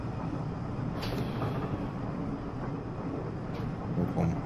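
A Class 419 mail train rumbles steadily in Train Simulator Classic, its low continuous rolling noise close and moderately loud, with a few faint higher clanks over a few seconds.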